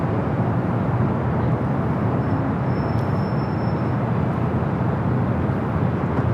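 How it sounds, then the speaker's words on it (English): Lufthansa Airbus A350 airliner at Los Angeles International Airport, a steady broadband roar of jet engines holding at constant loudness throughout, with a faint high whine briefly appearing midway. "Lufthansa A350 heading here to the north."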